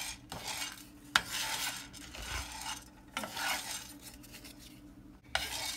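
Toor dal dry-roasting in a pan for rasam powder, stirred with a utensil that scrapes and clinks against the metal in steady passes, with a faint sizzle underneath and no voices.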